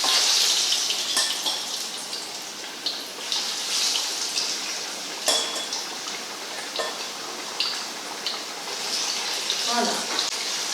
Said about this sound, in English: So we fry the next batch.